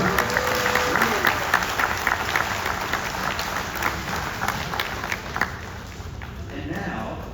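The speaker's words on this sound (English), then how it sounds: "I said we give these 2 round of applause." Audience clapping at a live glassblowing demonstration show at the Corning Museum of Glass in Corning, NY, a steady wash of applause across the clip that slowly thins toward the end, with some voices mixed in.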